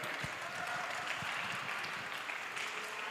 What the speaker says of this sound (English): Ladies and gentlemen, round of applause, Sharon Dorrington.